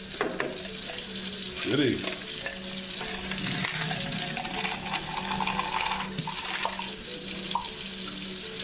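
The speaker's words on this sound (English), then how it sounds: "we're going to run the rocks through a couple of cycles of straining and rinsing" Rocks from a rock tumbler being rinsed and strained under running water, with a continuous splashing flow, rattling and stirring of stones in a container, and a brief spoken word.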